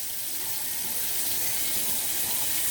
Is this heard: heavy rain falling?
no